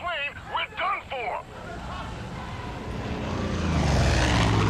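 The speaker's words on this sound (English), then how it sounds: "Air support is coming in. We don't take care of that plane." An air support plane in Far Cry 5 drones in with a steadily rising propeller engine roar, growing louder as it approaches, following a brief stretch of speech.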